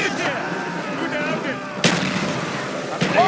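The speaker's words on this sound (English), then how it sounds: "Mortar inbound!" Mortar fire in Call of Duty: Black Ops, a sudden loud blast and a second thump over background battle noise, with voices shouting faintly during the fighting.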